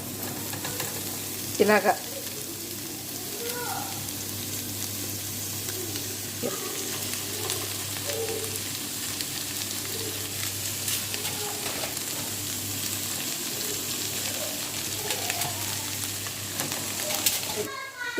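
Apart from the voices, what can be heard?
chicken added to fried onions, sizzling in pan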